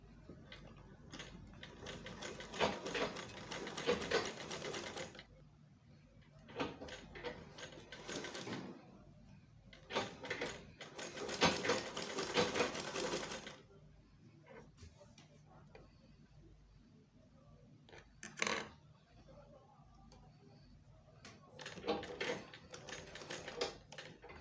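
A sewing machine stitches a shirt collar onto a shirt dress at the placket, running in several bursts of rapid mechanical chatter separated by short pauses, close and fairly loud.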